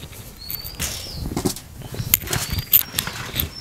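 Pigeons at a country pigeon farm flap their wings in bursts as the coop doors are opened, a close, fluttering rush of wingbeats with a few louder flaps near the end.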